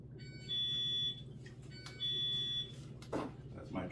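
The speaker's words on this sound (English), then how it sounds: "My driveway alarm." Driveway alarm chiming indoors, two separate electronic tone bursts of about half a second each, clear and moderately loud over a low hum, followed by someone speaking.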